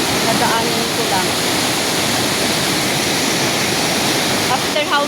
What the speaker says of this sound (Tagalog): malakas pa rin ang agos ng tubig